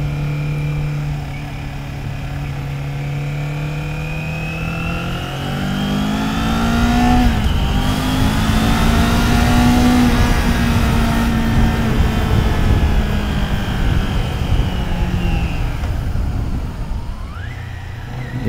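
A 2023 Kawasaki Z400 motorcycle engine revs while being ridden, its pitch climbing and falling through the gears with a steady loud drone heard from the rider's position.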